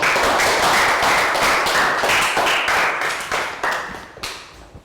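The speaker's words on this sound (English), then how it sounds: "Round of applause for Prel." Classroom applause for a Year 3 student, a steady patter of small hands clapping close by that fades and thins out toward the end, with no talking over it.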